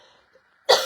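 A single sharp, loud cough bursts out near the end after a quiet stretch, close to the microphone.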